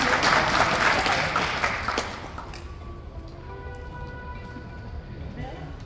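Workers at a construction-site safety motivation program applaud loudly for an award presentee for about two seconds, then the clapping fades and a voice speaks over light room noise.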